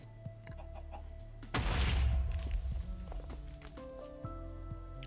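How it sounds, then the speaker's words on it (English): Air compressors blowing up in a Minecraft ATM7 skyblock modpack, a sudden loud burst of explosive rumble that decays over a couple of seconds, with machine hums and tones running before and after. "These air compressors are blowing up."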